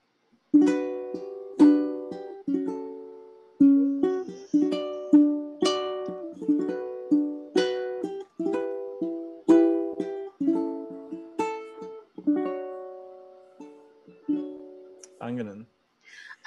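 Rearranged jazz chords are played as a backing track, struck one after another in a steady rhythm, each chord ringing and fading before the next, clear and alone.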